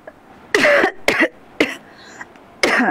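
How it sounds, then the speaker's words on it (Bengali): A woman coughs repeatedly during a live stream, four sharp loud bursts in an uneven rhythm, close to the microphone with quiet gaps in between. "লাইভে আসলে কাশি আসে"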